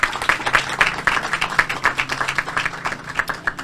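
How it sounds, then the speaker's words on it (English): Applause at a community hub ribbon cutting ceremony in West Palm Beach, a short burst of fairly close clapping that holds steady without voices. "A round of applause,"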